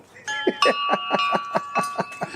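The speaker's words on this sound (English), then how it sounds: "your chimes are so loud, dude" Chimes ring close by, sustaining bright metallic tones while a series of quick, regular knocks pulse beneath them.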